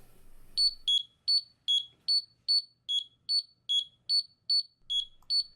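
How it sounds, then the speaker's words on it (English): A Ventis Pro4 gas meter sounds its stage alarm during a bump test: a loud run of evenly spaced, sharp electronic double beeps, about two per second, repeating with nothing else heard. "The meter should display gas levels and then go into first and second stage alarm."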